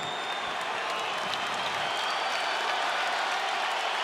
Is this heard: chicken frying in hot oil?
no